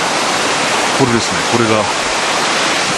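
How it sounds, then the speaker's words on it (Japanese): The Shirahige waterfall in Biei, heard from a truss bridge, gives a steady, broad rush of falling water, loud and constant, while a person speaks briefly over it. "このトラス橋の間からですね、滝をですね見ることができます。"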